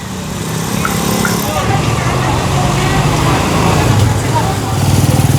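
An illegally parked car is hauled away by a tow truck on a village street, with engine rumble and road traffic noise rolling steadily, while a reporter talks over it.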